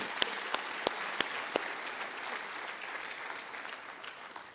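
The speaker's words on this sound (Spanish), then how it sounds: "Dale un fuerte aplauso a Él" Congregation at a church service giving loud applause, a dense steady clapping with a few sharp individual claps standing out early on, slowly easing off toward the end.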